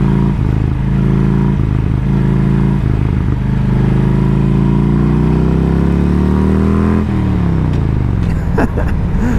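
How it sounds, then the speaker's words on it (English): Harley-Davidson Road King motorcycle engine idling loudly and steadily close by, with a deep rumbling lope and short throttle blips near the end. "Nothing beats the sound of a Harley."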